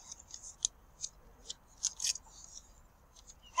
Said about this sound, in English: When he hands it to Elena Ace, she's going to do her catabolic tearing reaction.